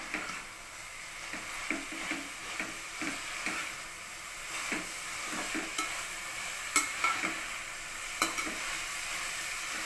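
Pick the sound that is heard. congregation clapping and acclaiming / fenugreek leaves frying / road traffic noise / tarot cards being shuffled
fenugreek leaves frying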